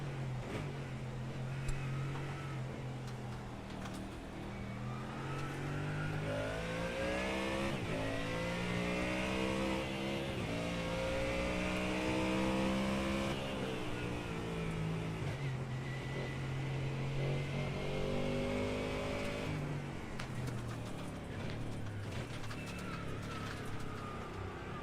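Onboard roar of a Mustang GT3 race car at Daytona International Speedway, a sustained loud engine drone rising and falling in pitch through gear changes and acceleration, with no pauses.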